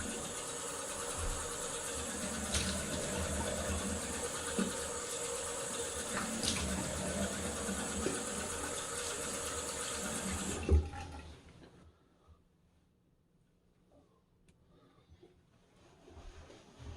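Tap water runs steadily while a razor is rinsed after a shave with a non-folding kamisori shavette, then cuts off abruptly partway through, leaving near silence with faint rustling.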